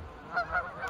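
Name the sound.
swans calling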